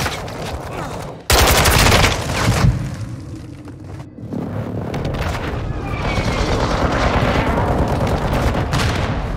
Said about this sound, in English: Airstrike, find cover